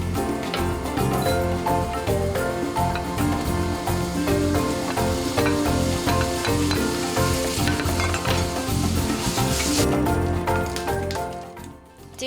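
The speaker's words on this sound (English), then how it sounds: "the pan is hot, place the salmon in and cook each side for about a minute or 2" Salmon pieces fry in a hot pan during meal prep, producing a loud, constant sizzle and crackle with occasional light clinks of utensils against the pan.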